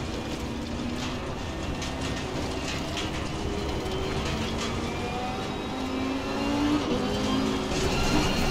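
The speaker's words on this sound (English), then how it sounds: "the sound, that screaming V10 engine" A distant V10 race car engine screams at high revs, its pitch rising and falling steadily over a constant rumbling background, at a Lamborghini Super Trofeo race at Zandvoort.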